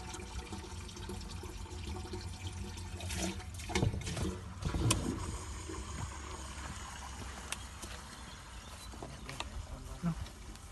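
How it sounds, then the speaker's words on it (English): Water from a solar-powered borehole pump running on 24 volts pours in a steady, continuous gush close by, rushing and splashing evenly throughout. "So okay, steady flow of water, but it is running on 24 volts at the minute."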